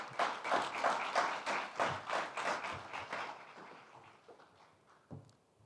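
Audience applause at a business forum, a dense burst of many hands clapping that swells, then thins out and fades, with a few last scattered claps near the end.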